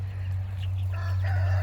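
Chickens cluck and give a short crowing call close by, over a steady low hum, with no talk.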